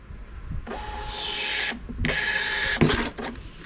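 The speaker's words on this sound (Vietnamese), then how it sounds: "Rồi, in thử cho các bạn xem nha." A Wi-Fi wireless receipt printer runs off a test sales order in two quick mechanical bursts of buzzing thermal printing, followed by a short clack as the paper tears, close and alone without talk.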